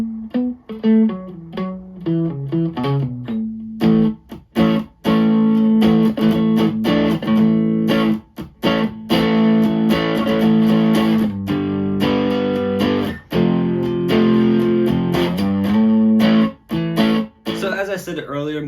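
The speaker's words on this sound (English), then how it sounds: "mode number 2 is just a clean boost, so that'll just give you a very, very nice, punchy," An electric guitar plays through a distortion pedal set to its clean boost mode, giving a bright, punchy tone with slight grit; loud, sustained chords and riffs fill the passage with brief pauses between phrases.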